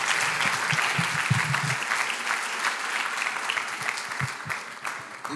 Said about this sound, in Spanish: le puedo pedir que si puede brindarle un fuerte aplauso al Señor Jesucristo